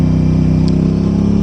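The parallel-twin engine of a 2026 Aprilia RS 660 sport bike drones loud and close at an even, steady pitch while riding along a frontage road.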